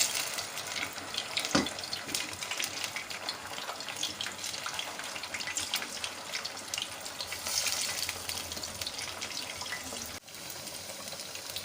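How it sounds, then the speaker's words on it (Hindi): Arbi rolls made with taro leaves deep fry in hot oil over medium heat, giving a steady, close, crackling sizzle that keeps up throughout with small pops and no voices. "मैं आपको डीप फ्राई करके दिखाती हूँ। इसमें तेल मेरा गर्म हो गया है।"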